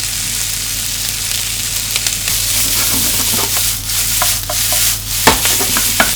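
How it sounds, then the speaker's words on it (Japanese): Cooked rice is stir-fried and broken up in a pan with chunky vegetables for a pilaf, giving a loud continuous sizzle with repeated spatula scrapes and taps against the pan. "ご飯とご飯ほぐしながら炒めていきます。"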